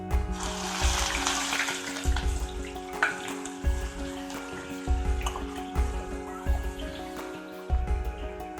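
Ground onion paste fries in oil for a chicken curry, a soft bubbling sizzle under a steady hum, with repeated thumping stirs about once a second.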